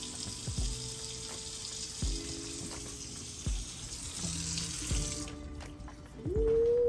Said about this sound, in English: they're playing with the faucet again